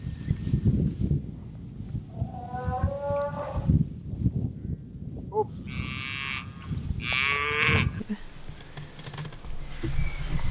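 Calves on a farm at Oddacres near Skipton moo repeatedly in several drawn-out calls, fairly close, over a steady background of farmyard noise and shuffling.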